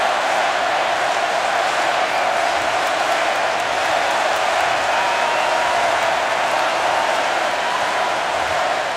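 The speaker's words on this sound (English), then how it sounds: "Here comes that Miami crowd." The Miami crowd at a college football stadium for the 2017 Orange Bowl against Wisconsin roars as one dense, sustained wall of cheering that stays loud and even from start to finish.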